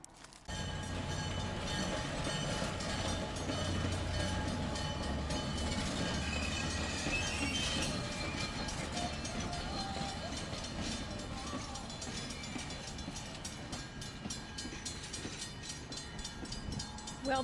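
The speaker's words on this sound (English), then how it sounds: "I caught the wine train as it heads down past a lot of those murals." Napa wine train passing through the Rail Arts District, a steady rumbling roll of railcars heard at moderate distance for the whole stretch, with faint clatter and no talking.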